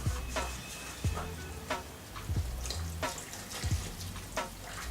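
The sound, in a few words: water poured into bread dough mixture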